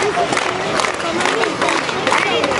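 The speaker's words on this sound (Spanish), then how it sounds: "Gritan palabras de orden mientras con cacerolas y con palmas agitan y hacen muchos sonidos" Street protest crowd banging pots and clapping while shouting slogans, a dense continuous roar of voices with sharp metallic clatter and claps throughout, loud and close.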